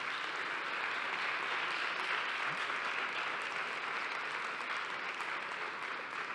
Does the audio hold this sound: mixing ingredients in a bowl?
no